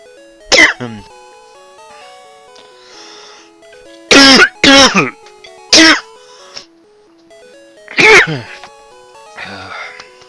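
A man's coughing fit: a series of loud, harsh coughs and throat clearing in separate bursts, close to the microphone, with quiet game music playing underneath.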